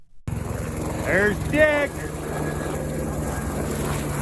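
A low-flying helicopter drones steadily overhead beside snowy muskeg, its rotor and engine noise constant and fairly loud throughout, while someone speaks briefly over it.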